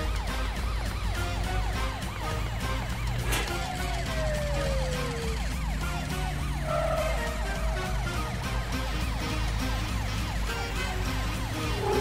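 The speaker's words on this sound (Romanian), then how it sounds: "Nu te pot auzi din cauza sirenelor." Cartoon emergency vehicle sirens wail continuously and loudly, several overlapping tones cycling over a low engine rumble, with no talk.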